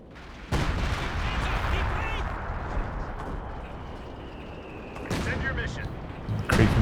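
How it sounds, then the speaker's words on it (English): Artillery shells from a creeping barrage pound down in a Company of Heroes 2 match, a dense rumbling roll of blasts with sharper impacts near the start and end, a voice talking over the battle. "Creeping barrage going after those packs"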